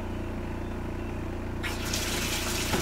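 Water gushes into the tub of a Costway portable washer and spin dryer used for RV living. A steady motor hum runs throughout, then a loud, continuous rushing fill starts partway through and carries on to the end.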